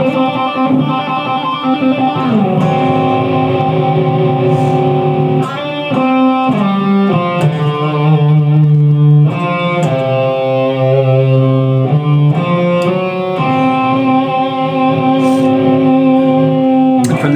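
Electric guitar plays a solo phrase, with slides and bent sustained notes in a lightly overdriven tone, loud and steady with no voices.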